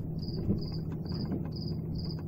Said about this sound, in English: Do you hear the crickets?